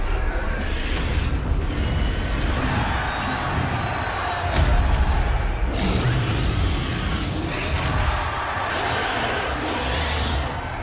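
Booming spell blasts from the Hogwarts Legacy video game, a Confringo fire spell cast in combat, burst repeatedly over a continuous loud battle din, with sharp impacts near 4.5 and 5.8 seconds.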